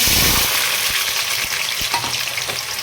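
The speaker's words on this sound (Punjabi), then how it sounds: "ਹੁਣ ਅਸੀਂ ਇਸ ਵਿੱਚ ਪਾ ਰਹੇ ਹਾਂ ਪਿਆਜ਼" Chopped onion hits hot oil in a kadai with a loud burst of sizzling, settling into a dense steady crackle with a few dull knocks of a stirring spoon, close up.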